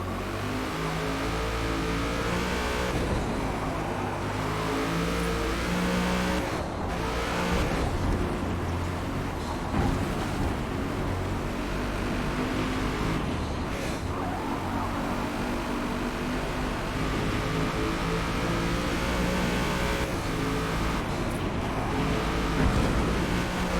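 A race car in the Forza Motorsport racing game drives hard through corners, its engine revving and surging continuously with repeated throttle lifts and shifts, loud and close with no talking.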